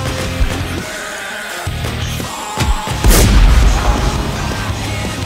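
Sniper rifle fire in a first-person shooter video game, with several sharp, heavy booms over a dense, layered game soundscape and one especially loud, sustained blast near the middle.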